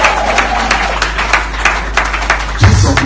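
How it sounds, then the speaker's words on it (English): A church congregation claps during a wedding vow ceremony, a steady run of distinct claps over a continuous low hum, ending with a louder shift near the end. "somebody will clap"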